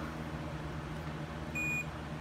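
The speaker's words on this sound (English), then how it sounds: "You should get one beep like that." Multimeter continuity test during a drone build, checking an Armattan Fury frame: a single short, high electronic beep sounds near the end over quiet background hiss.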